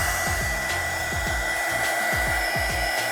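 Heat gun blowing steadily at a Bauer shop vac switch, a constant loud airy whir with a low rhythmic wobble in its motor hum, close up and with no talking.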